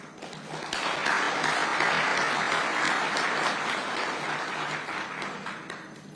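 An audience applauds at the launch of an educational assessment conference in Africa, a dense wash of clapping that swells quickly, holds steady for several seconds, then begins to taper off.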